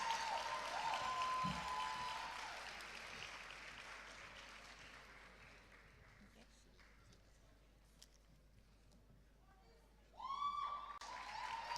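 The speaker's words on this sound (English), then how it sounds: "A round of applause for him." An audience at a university film festival awards ceremony claps in moderately loud, scattered applause that fades over several seconds, with a voice speaking over the start and the end.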